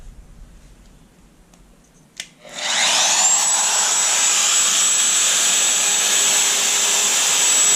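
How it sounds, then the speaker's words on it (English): A wood router set to an 11/16 inch depth starts up with a short click, then a loud, steady high-pitched whine with broadband cutting noise that holds without a break. "I set my router depth to 11/16 of an inch."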